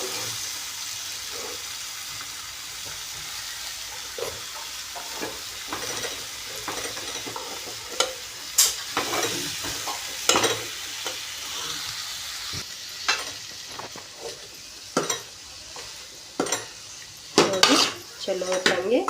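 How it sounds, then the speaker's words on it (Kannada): Cauliflower and potato sizzle in a frying pan while a spoon scrapes and knocks against the metal, the stirring clacks growing louder and more frequent toward the end over a steady frying hiss. "ಚಲೋ ತಂಗೆ ಈಗ ಎಲ್ಲ ಮಿಕ್ಸ್ ಮಾಡ್ಕೋಬೇಕ್ರಿ"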